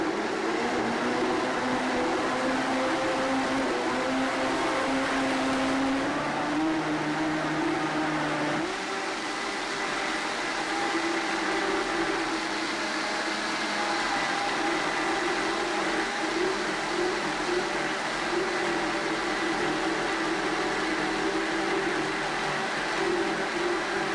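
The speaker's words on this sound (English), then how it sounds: "here's the Vitamix. Here's how much it works to blend this" A Vitamix blender runs continuously with a steady motor whine and churning, shifting pitch partway through as the load changes, close and constant without speech.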